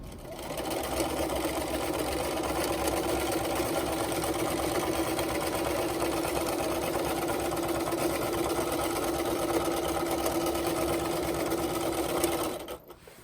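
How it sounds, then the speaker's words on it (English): A sewing machine machine-quilting fabric runs steadily and loudly in the foreground, a continuous fast mechanical whir that holds for about twelve seconds before stopping near the end, with no talk. "So I've machine quilted back a bit."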